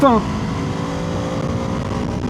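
A BMW F 450 GS Trophy motorcycle engine droning steadily as it runs up the gears onto a highway, a continuous near hum with rising tones at the start and wind noise throughout.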